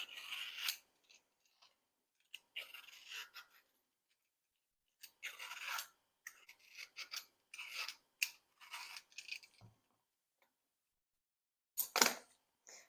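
Pears being peeled by hand, giving a run of short scraping, rasping strokes in quick bursts with brief pauses between them, close and fairly faint, with no talk.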